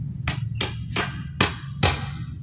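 Five sharp hammer strikes driving nails into a wooden cart ring out at an uneven pace, each with a bright metallic ping, over a low steady background rumble.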